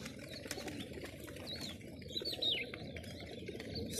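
Homing pigeons fly overhead outdoors, soft wing flaps and faint chirps rising over a low background rumble, fairly quiet and close to distant.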